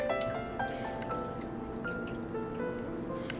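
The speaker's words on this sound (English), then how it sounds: "we're going to fill our bowl all the way to the top" Hot water pours into a bowl for defrosting frozen tilapia, a steady trickle with scattered drips and splashes close by, fairly quiet and without speech.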